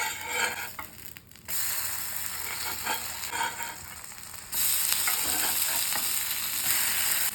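Uthappam fries on a hot pan with ghee in a kitchen, a steady close sizzle with scraping and stirring clatter. It briefly dips near the start and then grows louder and brighter. No one speaks.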